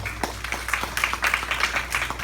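A church congregation claps in steady, rhythmic unison at a sermon service, the crisp, evenly spaced hand claps riding over a low background hum.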